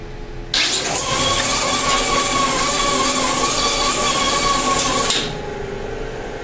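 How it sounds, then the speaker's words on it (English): A Samuel P702 automatic plastic strapping machine ejects its strap with a loud, steady mechanical whir that starts abruptly, runs for about five seconds, then cuts off to a quieter machine hum. "This will exhaust the strap into the dispenser area."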